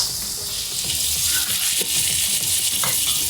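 Ginger and garlic paste hitting caramelized golden onions in a hot pan, producing a loud, continuous close-up sizzle with a few faint stirring scrapes.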